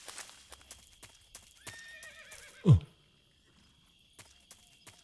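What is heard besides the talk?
horse neighing and hooves in video game Metal Gear Solid 3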